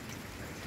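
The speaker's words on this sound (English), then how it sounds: "A little bit more rain." Steady rain pours down in a brief, dense wash of noise, with no voices over it.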